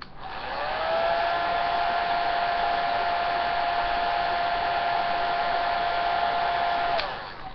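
A hair dryer runs continuously for about six seconds, warming Jamberry nail wraps, with a loud, steady close-up whine that starts up and cuts off cleanly.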